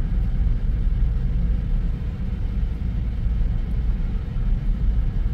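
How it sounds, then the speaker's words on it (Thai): Heavy Bangkok traffic rumbles at a red light near the Ratchaprasong intersection, a dense, loud low-frequency drone of idling and creeping engines heard from close by, with no voices. "รถติดมาก"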